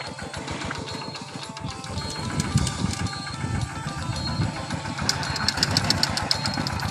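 A walk-behind tractor engine runs during a gear test, a close, steady mechanical chugging with rapid rhythmic knocking and rattling that holds throughout without speech.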